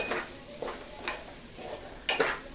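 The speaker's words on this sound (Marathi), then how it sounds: "हा जो तांदूळ आहे हा दोन मिनिटांसाठी ह्या तेलामध्ये छान परतवून घ्यायचा" Rice is stirred and fried in hot oil for spiced masale bhat. A spoon scrapes through it in about four distinct strokes over a faint steady sizzle, close and fairly loud, with no voices.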